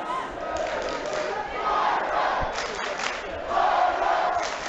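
Football fans chanting against rival supporters at a Kazakhstan Premier League match, a massed crowd roar rising and falling in waves with shouted chant bursts, loud and continuous.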